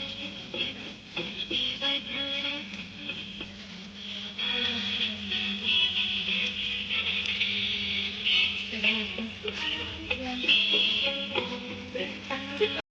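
A coin-operated machine at a Bahuchar Mata temple plays a recorded mantra chant after a rupee coin is dropped in, a steady droning recitation with buzzy tones running throughout, fairly loud and continuous.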